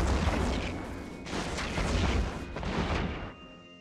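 Weapon fire from spaceship modules in the space game EVE Online, a dense continuous barrage of booming shots and crashes in three sustained bursts, loud and close, fading to a quieter hum at the end.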